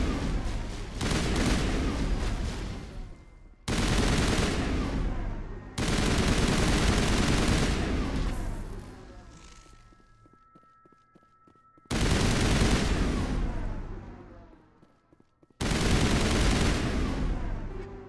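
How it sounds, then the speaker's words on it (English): Loud, dense bursts of automatic gunfire in Mass Effect Legendary Edition, several sustained volleys broken by short pauses, with a quieter stretch of ambient game sound partway through and no talking. "Loud guns."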